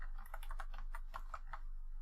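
Typing on a computer keyboard with worn-down keys, a run of crisp, close clicks in an uneven rhythm, about a dozen keystrokes over a low steady hum.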